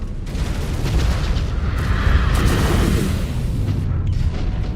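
Incoming missiles blast around a mech in the video game Mechwarrior 5: Clans, making a dense continuous rumble of booming explosions, loud and close, with no pause for the whole stretch.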